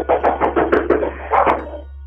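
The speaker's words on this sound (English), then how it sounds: "he's at the back patio door again. I can hear him banging again." A man pounds repeatedly on a back patio door, a fast series of heavy, muffled thuds in two quick volleys, loud and close, over a steady low hum.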